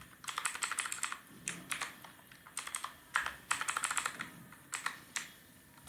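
Close typing on a computer keyboard while writing HTML, with quick bursts of clicking keystrokes separated by short pauses and no talk.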